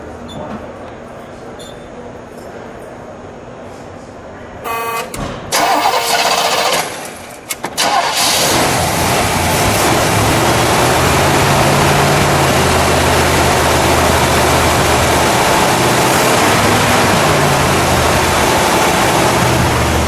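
A 1970 Chevrolet Camaro 350 V8 with single exhaust cranks and catches around five seconds in, then settles into a loud, steady rumbling idle with occasional revs, recorded up close in cold air.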